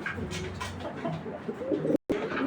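Racing pigeons coo in a steady, overlapping chorus of soft, throaty calls close by, the murmuring continuing without pause apart from a brief cut in the sound.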